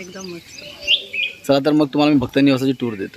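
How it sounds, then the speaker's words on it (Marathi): Morning birdsong chirps and tweets around a hilltop temple guesthouse in Konkan, heard clearly at first, then continuing under someone talking close by. "सकाळी उठलं मस्त पक्ष्यांचा किलबिलाट आहे"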